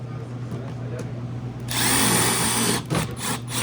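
A power driver whirs in short bursts, backing Phillips screws out of the top cover of an Atosa commercial kitchen unit, with a steady electrical hum and a low voice in the background.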